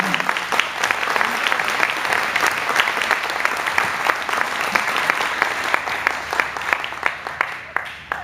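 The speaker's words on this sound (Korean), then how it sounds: "큰 박수로 맞이해 주시면 감사하겠습니다" A large audience at a Korean Liberation Day ceremony in Atlanta applauds a speaker coming up, sustained loud, dense clapping that holds steady and then starts to thin near the end.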